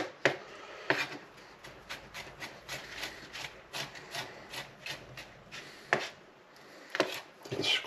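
A knife chopping herbs for gremolata on a board, with quick, fairly soft repeated taps in a rocking rhythm and a few louder thuds and scrapes between them.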